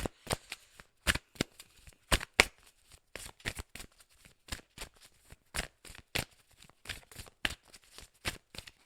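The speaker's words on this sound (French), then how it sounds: "Hop, oracle akashique, tirage à 9 cartes aussi pour vous." Akashic oracle cards shuffled close up for a nine-card draw, a rapid run of crisp riffles, snaps and slaps in an irregular rhythm with no talking.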